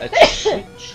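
A single sharp, close sneeze bursts out, followed by a person speaking briefly.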